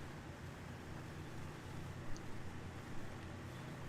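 A modded truck in a trucking video game with a straight pipe Gatling exhaust and twin-stick 18-speed gearbox gives off a steady, droning exhaust rumble with a wash of broadband noise, unbroken and fairly even throughout.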